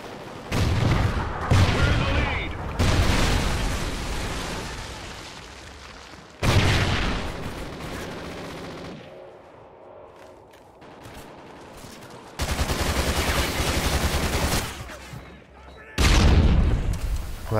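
Gunfire in the PC shooter Call of Duty Ghosts on the Ripped Freight map: repeated bursts of loud rifle fire and booming blasts, with quieter gaps between volleys and a voice talking in places.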